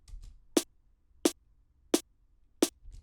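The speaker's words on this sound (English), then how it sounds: "And then this is the body snare." A layered body snare drum sample for dark drum and bass production strikes four times, evenly spaced and crisp, each hit short and bright, played alone with no talking.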